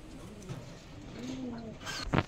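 A square pigeon gives a couple of short, low coos, soft and close, followed by a brief sharp rustling burst near the end.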